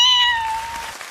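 A performer imitates a cat's meow on a comedy show: one drawn-out, falling mew, clear and close, fading into faint crowd noise with no speech over it.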